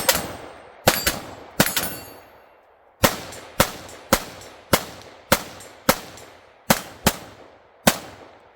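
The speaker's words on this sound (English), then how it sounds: "those last few shots were at about 80 yards, just as fast as you can pull them on that silhouette" A Diamondback DBX57 rifle fires rapidly at a silhouette target about 80 yards away, twelve sharp loud outdoor cracks in quick succession, each trailing a short ringing echo.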